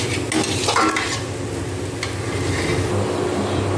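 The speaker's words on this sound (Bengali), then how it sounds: "তারপর ভালো করে নেড়ে চেড়ে নিলেই আলু পটল ভাজাটা হয়ে গেল" Potato and pointed gourd fry being stirred in a pan, a continuous oily sizzle under repeated scraping strokes of a spatula, close and fairly loud.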